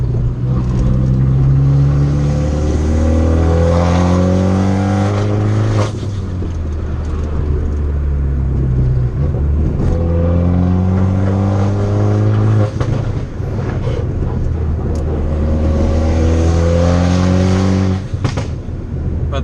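A turbocharged widebody car's exhaust roars loud and close as it accelerates hard through a canyon, pitch climbing in repeated rising sweeps with brief shift breaks, no talk heard.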